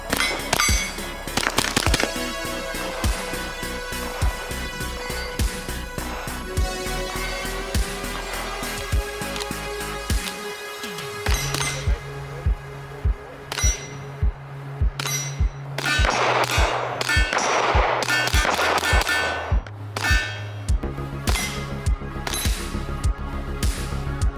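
MK3 Firearms MKO pistol rounds strike steel targets in a long string of sharp, ringing clangs with short pauses between them. The impacts are heard alongside loud gunshots, with rapid bursts in the later half.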